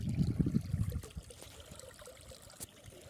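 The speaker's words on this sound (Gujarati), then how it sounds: "પાણી ચાલુ છે" Water runs steadily from a tap or vessel at a farm-side lunch, a fuller low gush for the first second, then a thinner, lighter trickle continuing close by.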